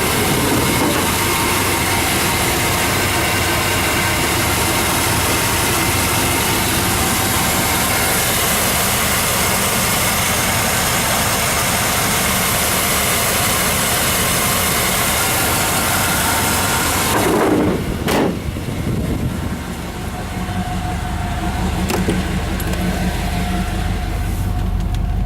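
An older pickup truck with a 350 engine, fitted with a new exhaust and radiator, idles loudly and steadily up close, then is shut off near the end, dropping to a quieter background hum.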